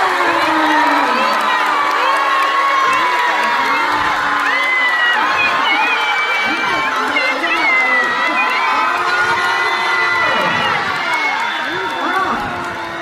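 A crowd of fans at a singer's new-song launch and fan meeting cheers and shouts steadily, with excited high voices and whoops running without a break and staying loud throughout.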